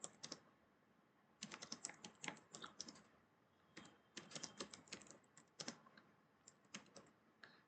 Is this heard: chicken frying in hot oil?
no